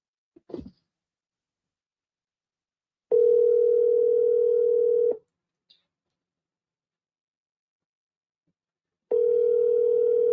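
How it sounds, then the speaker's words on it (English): An outgoing phone call rings before reaching voicemail: a brief knock, then two long, steady ringback tones a few seconds apart separated by silence, clear and alone. "Let me call Juanita."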